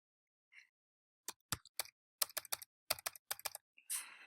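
Close, crisp keystrokes on a computer keyboard while entering text into form fields, coming in short irregular bursts of sharp clicks with brief pauses between them.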